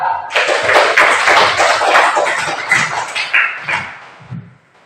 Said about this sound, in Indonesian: maka tepuk tangan buat pertanyaan si Via.